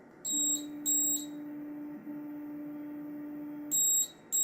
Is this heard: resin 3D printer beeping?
yes